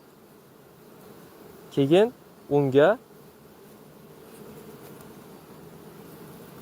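Honey bees hum in a soft, steady drone at a hive, a faint continuous buzz running throughout while someone briefly speaks over it partway through.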